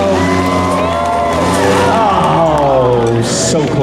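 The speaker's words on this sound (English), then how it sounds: "Cheer them on." Crowd cheering and whooping at a car ramp competition, a loud, sustained roar of many voices with shouts rising over a steady babble.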